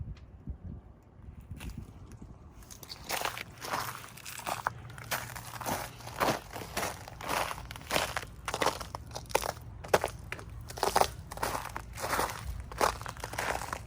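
Footsteps crunching over ice-covered ground outdoors in freezing weather, a steady close rhythm of crisp crunches that begins after a quiet moment, with faint wind behind.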